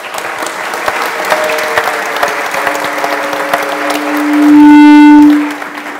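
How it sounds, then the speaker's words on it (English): An audience at a business centre launch in Tauranga claps warmly for several seconds in a close, steady patter, and a sustained electronic tone swells over the clapping near the end. "a big Tauranga warm welcome and a round of applause"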